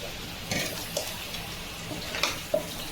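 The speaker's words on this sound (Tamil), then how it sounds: "இப்போ தேவையான அளவு தண்ணி ஊற்றிக்கலாம்." Water is poured into crab gravy in a pan, a steady splashing wash under faint sizzling, with a few small clinks and no talking.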